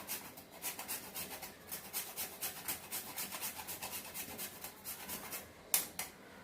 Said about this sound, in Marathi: आता आपण याच्यात थोडंसं जायफळ किसून घेणार आहोत.